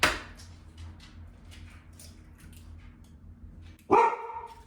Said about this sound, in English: You barking at something?